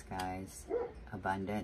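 Dogs bark and yip outdoors under a woman's speech, a few short harmonic barks mixed in with her voice.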